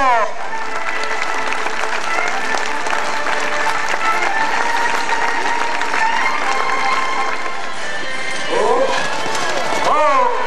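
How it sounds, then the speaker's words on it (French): Loud, sustained applause from a large crowd, with cheering voices and whistles rising near the end. "On les applaudit bien fort."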